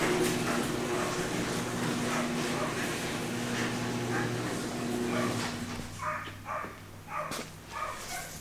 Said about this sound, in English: I do apologize for the sound of dogs in the background